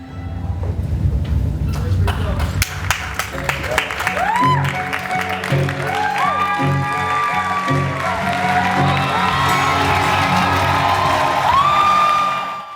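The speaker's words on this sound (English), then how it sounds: "They were clapping for the 200 people that put their souls into that project." Theater audience bursting into sustained applause and loud cheering with whoops after a 200-person rock opera, a dense roar of clapping and shouting that builds and stays loud throughout.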